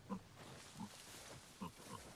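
Pigs in the video game Dragon's Dogma 2 grunting in short, faint snorts, three or four spaced grunts over a couple of seconds with low background ambience.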